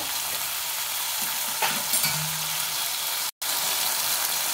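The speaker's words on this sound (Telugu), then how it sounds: "టమాటాలు అనేది మంచిగా కలుపుకోవాలి" Tomatoes frying in a pan for a brinjal and tomato curry, a steady moderate sizzle with a couple of soft stirring scrapes and a short dropout near the end.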